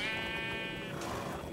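Sheep bleating in the Minecraft video game, a single loud, sustained wavering bleat heard up close with no talk over it.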